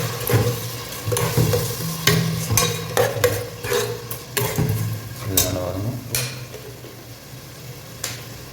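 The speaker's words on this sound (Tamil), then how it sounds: "ஸோ ஃபைவ் நிமிஷம் கொஞ்சம் ஃப்ரை ஆகும்" A paste of mint and coriander fries in a pan for chicken biryani, with soft sizzling under repeated clicks and scrapes of a spoon stirring it, close and moderately loud, with no talk.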